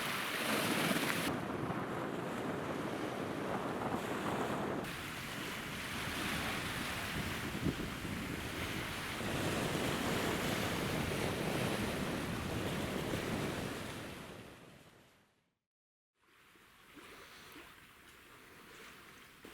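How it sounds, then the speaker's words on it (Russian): Storm waves on Lake Baikal at nightfall roll and crash continuously against the shore under strong wind buffeting the microphone, loud and close, breaking off briefly near the end before resuming. "Ближе к ночи на озере начался небольшой шторм."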